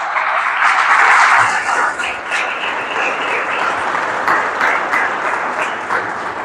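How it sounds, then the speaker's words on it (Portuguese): A church congregation bursts into sustained applause during a sermon, loud and dense clapping that swells early and then holds steady, with a few faint voices mixed into the crowd. "Dê uma salva de palmas para o Senhor."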